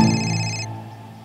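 A telephone rings once in an Indian TV serial scene, a bright electronic bell tone sustained for about half a second and then fading, heard alone and close.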